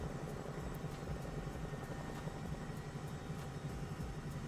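A Robinson R44 Raven II–style stock helicopter stripped to necessities, steady rotor thump and engine drone heard from inside the cabin, continuous and loud without pause.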